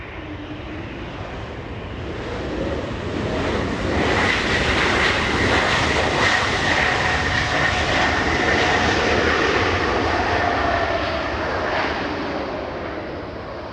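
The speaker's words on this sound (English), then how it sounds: "We have Xiamen, a Dreamliner flying from China." A Xiamen Airlines Boeing 787 Dreamliner arriving at Los Angeles International Airport from China, its jet engine roar swelling as it nears, peaking loud and broad overhead, then gradually easing as it passes.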